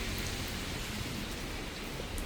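Steady rain falls, a dense even hiss with no break or other sounds.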